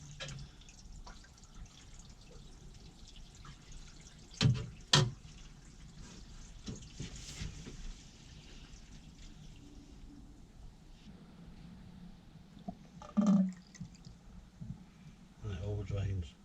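Water runs into a newly plumbed narrowboat sink and drains away, a faint steady trickle with a few louder splashes and gurgles while people talk quietly nearby.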